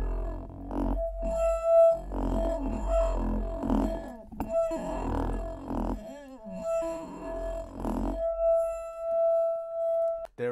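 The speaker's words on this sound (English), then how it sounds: "I have this glass rub big file," Rubbed glass ringing with sustained pure tones and wavering, moaning resonances, low rumble underneath and sliding pitch squeals, swelling and fading over several long strokes before settling into a steady held tone.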